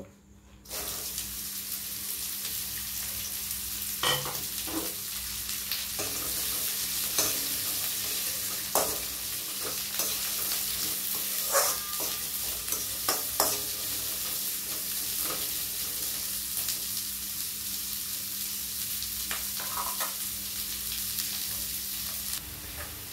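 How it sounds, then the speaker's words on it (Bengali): Chopped carrots and beans fry in ghee in a wok, a steady soft sizzle running throughout with frequent scraping stirs and clinks of a spatula. "আর কেটে রাখা গাজর বিনস কড়াইতে দিয়ে দেব।"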